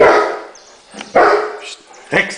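A pet dog named Rex barks in a few short bursts outdoors among beehives of Brazilian stingless bees, with someone talking over and between the barks.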